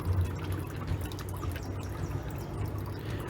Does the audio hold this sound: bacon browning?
no